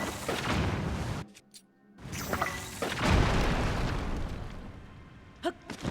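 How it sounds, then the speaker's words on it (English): Several bombs blast through a wall in Zelda: Tears of the Kingdom, heavy booming explosions breaking up over game noise, with a brief near-silent gap between blasts and rumbling debris afterward. "I'm going to bust through this wall. This is going to take, I think, 3 bombs."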